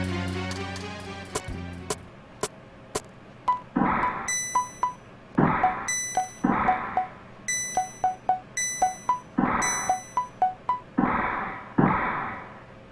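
A prayer bell in Breath of Fire 2 chimes repeatedly, a series of bright, ringing retro game tones struck one after another in an irregular rhythm, each note decaying briefly, with no talking.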